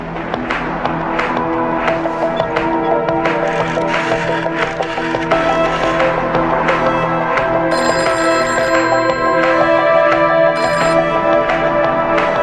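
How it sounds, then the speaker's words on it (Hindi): A telephone ringing persistently in a cabin, with steady repeated rings over a dense bed of dramatic background music from a Shah Rukh Khan action film, no voices. "अकबर के कैबिन का फोन लगातार बज रहा है।"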